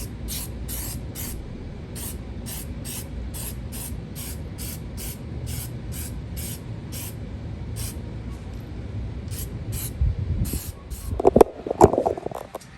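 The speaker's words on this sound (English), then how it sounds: "I've got the Duragloss Ultimate Detail Spray. I've got this all cleaned up here. Here's my tape. Let's go ahead and spray it on." Short rhythmic bursts of a trigger spray bottle of Duragloss Ultimate Detail Spray hiss repeatedly at close range onto car exterior trim, about a dozen quick pumps, followed by some handling clatter at the end.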